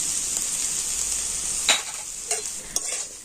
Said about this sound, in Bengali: আলুটা কিন্তু একটু ভালো করে নাড়াচাড়া করে নেব